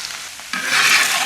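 Bean jelly with sesame paste is stir-fried in a hot pan, a quiet stirring scrape giving way to a loud, close sizzle halfway through, with no voices.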